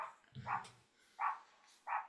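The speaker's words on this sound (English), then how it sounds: "you hear that dog" A dog outside barks three times in short, evenly spaced bursts, faint and distant, with a brief low thump near the first bark.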